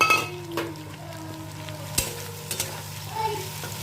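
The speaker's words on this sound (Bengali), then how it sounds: "এবার এটা অল্প ভাজবো" Fennel seeds and chopped capsicum fry in a pan for chilli chicken, making a steady close sizzle broken by a few sharp stirring clinks and scrapes.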